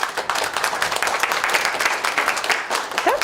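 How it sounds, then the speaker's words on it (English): A small audience gives a light, polite golf clap, scattered hand claps pattering steadily for a few seconds without cheering. "Don't y'all love that little golf clap thing?"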